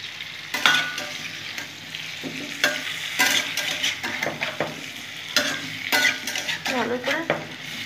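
Green chilies and crushed ginger frying for a Bengali sweet pumpkin chokka, hot oil sizzling steadily while a utensil scrapes and stirs the pan in repeated loud bursts, close up with no talking.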